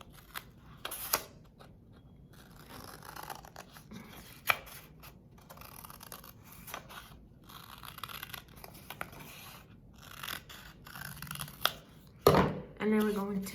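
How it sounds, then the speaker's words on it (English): Scissors cutting folded paper, with faint intermittent snips and rustles at close range, a louder crinkle near the end, and quiet talk between the cuts. "So we're going to cut just the outside."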